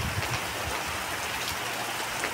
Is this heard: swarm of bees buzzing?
no